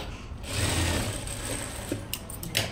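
A sewing machine stitches the folded side of a boat neck blouse, a close, steady whirring hum with fine needle chatter that swells in after a moment and runs on, ending with a few light clicks.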